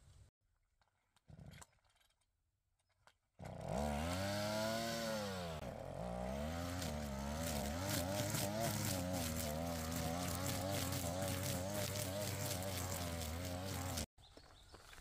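A gasoline brush cutter engine starts up after a quiet stretch and runs loudly and steadily up close, its pitch sagging briefly and then holding a high, buzzing whine until it cuts off abruptly near the end.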